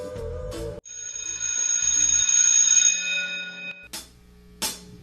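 A bell rings to end a class, a steady, sustained ringing of about three seconds that stands out clearly between bursts of louder noise before and after.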